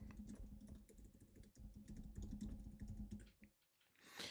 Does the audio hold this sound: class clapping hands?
no